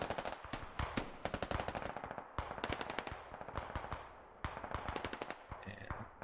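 Rapid automatic machine gun bursts in the military shooter game SquadOps, dense rattling volleys broken by short pauses, fairly close and sharp, with no talk over them.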